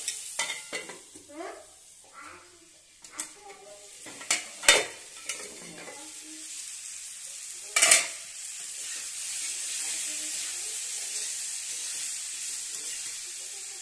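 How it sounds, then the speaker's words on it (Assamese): Fish curry with salt and turmeric is stirred in a pan, giving soft scraping and clacking strokes, followed by a steady sizzle and hiss from the pan that carries on through the second half. "নিমখ হালধি দি লৰাই লৈ অকণমান ঢাকি দিম মই।"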